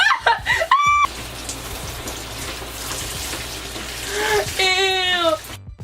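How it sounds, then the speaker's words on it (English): Water runs steadily from a tap or shower, rinsing a bentonite clay mask out of hair and splashing close by, while a woman yelps and exclaims over the continuous hiss. "Water's getting everywhere."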